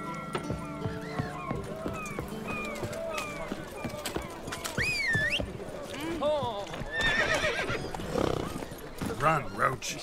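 Geralt's horse Roach galloping in The Witcher 3: Wild Hunt, with rapid hoof clip-clops, snorts and a sharp neigh amid game voices and shouts, growing busier and louder toward the end.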